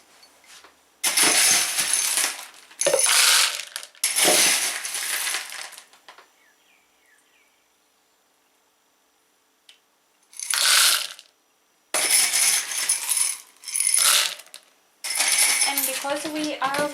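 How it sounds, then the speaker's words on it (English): Semi-hydro growing medium pellets poured into an orchid pot produce loud rattling, clinking bursts of tumbling clay-like granules, repeated in several pours with pauses between. "what I want to do, it is to put some medium in this pot"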